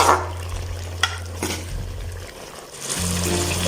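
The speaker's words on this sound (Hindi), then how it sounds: "अभी घी के अंदर तो चिकन को अच्छी फ्राई करते हैं।" Ghee-fried masala and chicken cooking in a pan gives a steady close sizzle, with a few soft stirring scrapes and clinks and no voices.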